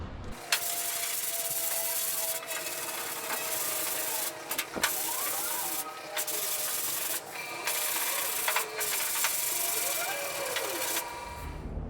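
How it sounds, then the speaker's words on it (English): Steady abrasive scratching of block sanding on a 1972 Blazer body panel before paint, close and continuous with brief pauses between strokes. "getting everything sanded down"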